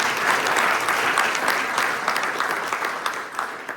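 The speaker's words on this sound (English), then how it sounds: "So a big round of applause for Andrew." A town hall crowd gathered on high-speed rail in Eastern Ontario gives a round of applause for a speaker, loud, dense clapping from many hands held steady throughout.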